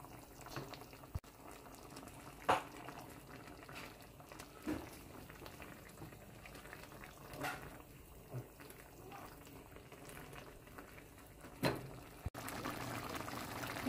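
A pot of water boils steadily for chicken tinga, a soft continuous bubbling with scattered louder pops and splashes, no talking over it.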